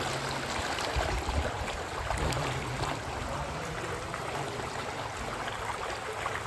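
Fast floodwater rushes through a flooded village in Punjab's Doaba region, a steady broadband roar of flowing water with low rumbling and no voices.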